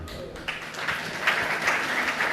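A crowd at a Jain religious discourse breaks into applause, a soft, diffuse rustle of many hands heard from a distance, swelling slightly partway through and holding steady.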